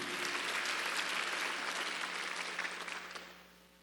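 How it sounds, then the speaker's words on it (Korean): A church congregation at a Sunday worship service breaks into steady applause, a dense wash of clapping that holds loud and then fades out toward the end, with no speech over it. "박수 한번 주세요."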